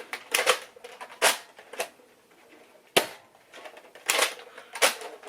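Nerf Hyper Rush 40 pistols, dual wielded, firing foam darts at a string: a string of sharp, snappy pops come in irregular bursts, some rapid doubles, close and fairly loud with quieter mechanical clicks between shots.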